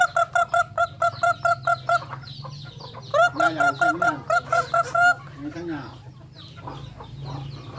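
Hens and a rooster on a rural farm cluck and call in bursts of rapid, repeated notes nearby, with a brief sharper squawk and low background hum.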